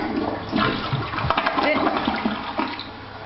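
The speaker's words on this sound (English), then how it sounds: "I'm gonna flush it" A TOTO toilet flushing, a steady rushing swirl of water running for about three seconds, close and fairly loud, with brief background talk mixed in.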